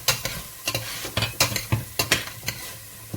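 Meat fried in ghee in a pan for a Lebanese green bean stew, turned with a utensil: a steady sizzle under repeated close scraping and clinking strokes at an irregular rhythm.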